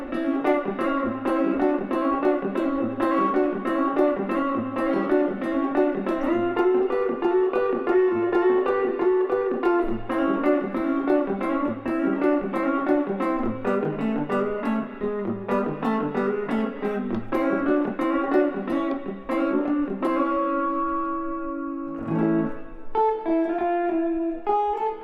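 Guitar playing a syncopated honky-tonk country rhythm, a busy, bouncing pattern of bass notes and chord strums that runs steadily for over twenty seconds before ending on a few ringing chords, clear and close with no talk.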